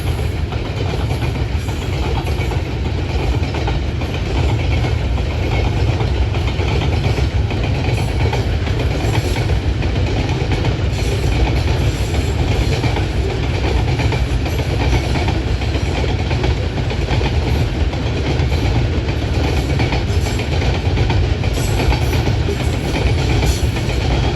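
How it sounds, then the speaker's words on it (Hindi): A super parcel express train passing through a quiet railway station in Thatta District, a steady loud roar of rolling wagons and rumbling wheels with faint clatter, continuous and close throughout. "जियो 40 9004 501 सुपर पार्सल एक्सप्रेस है।"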